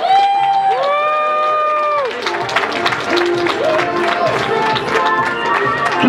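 A convention crowd at a fan event cheers, whoops and applauds loudly. A high voice rings out first, then steady clapping and shouting fill the space with no break.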